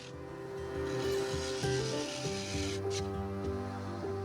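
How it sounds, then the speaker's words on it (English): A carbide cutter scrapes the rim of a spinning maple and green-and-purple epoxy resin bowl on a wood lathe, making a steady, close rasping under the lathe's humming, tonal drone. "Using the carbide cutter, I began shaping the rim, reducing the thickness so it didn't end up looking top heavy."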